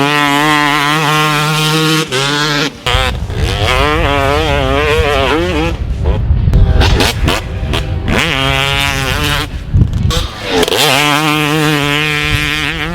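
A Yamaha YZ250 two-stroke motocross bike with a hand-ported cylinder being ridden, its loud, raspy engine revving up and down continuously, with sharp throttle blips and brief drops between accelerations.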